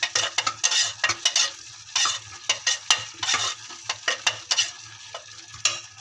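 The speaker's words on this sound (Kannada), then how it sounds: "ಎಣ್ಣೆ ಮೇಲೆ ಬರುವಂಗೆ ಚಲೋ ಫ್ರೈ ಮಾಡಬೇಕು." Rice being stirred and fried in oil in a pan for mint pulao, with repeated close scraping and clinking spoon strokes over a soft sizzle, steady irregular rhythm, no talking.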